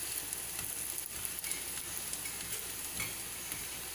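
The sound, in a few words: thalipeeth frying in oil in a pan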